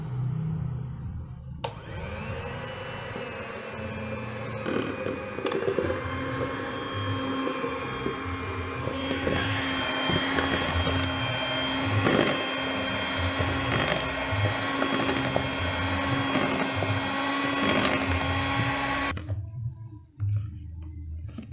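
An electric hand mixer runs at low speed while beating brownie batter, a steady whirring drone that holds loud and close for about seventeen seconds before cutting off.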